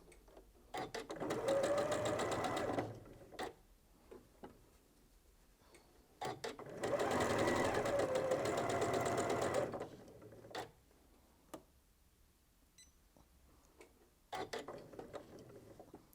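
Sewing machine stitching quilt fabric in two long whirring runs of about three seconds each, close and loud, with quiet pauses, handling clicks between and a short burst at the end.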